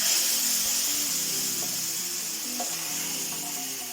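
Mustard seeds, chilli and onion sizzle as they are tipped from the pan into a drumstick-leaf masala curry, a steady close frying hiss with faint crackles and no talk.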